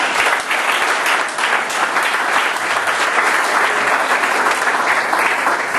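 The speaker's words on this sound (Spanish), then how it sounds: "Den un aplauso a Cristo Jesús." Sustained applause from a church congregation fills the room evenly throughout, dense, steady clapping with no voices standing out above it.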